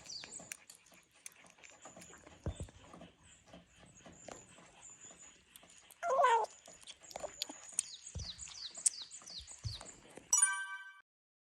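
A tiny kitten eating canned food for the first time makes odd little squeaky cries and chirps between soft smacking, close and quiet, with a few sharper high calls.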